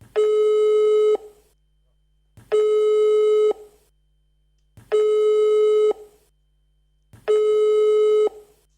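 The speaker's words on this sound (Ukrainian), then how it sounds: "не дочекалися відповіді і на телефонний дзвінок" An unanswered telephone call gives four long steady tones about a second each, separated by equal gaps of silence in a regular ringback rhythm, clear and close with no voices.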